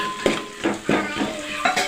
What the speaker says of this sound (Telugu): కరివేపాకు కూడా వేసుకున్నాను ఫ్రెండ్స్